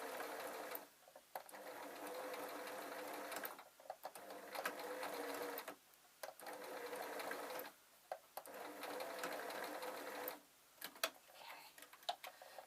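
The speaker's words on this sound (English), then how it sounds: "So I'm going to sew the other one on." A sewing machine stitches a dog Christmas stocking in several steady whirring runs of about two to four seconds each, separated by short quiet pauses, close up and without talk.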